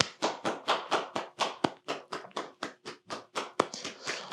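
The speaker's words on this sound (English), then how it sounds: "Just want you to just clap it up for you." An audience claps in rhythmic unison, roughly sixteen sharp, even beats across a few seconds, loud and close with no voices over it.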